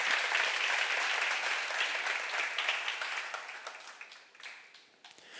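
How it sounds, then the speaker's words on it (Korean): A crowd applauds loudly and steadily, the clapping thinning and fading toward the end. "박수 세게 쳐봐요"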